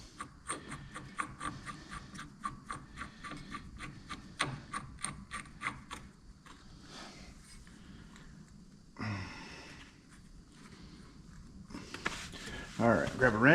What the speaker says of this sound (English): grab a wrench, tighten it up a little bit